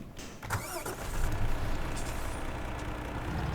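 A lorry engine starts in the Farming Simulator 2017 game, a brief whine and cough giving way to a steady, loud rumbling idle that continues without speech.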